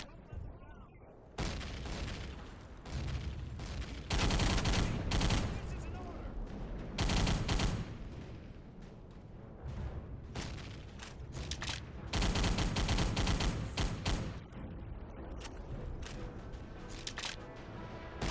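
A Thompson submachine gun fires long automatic bursts in a video-game battle, close and loud, with pauses between volleys and more gunfire and booms around it, while someone talks over it.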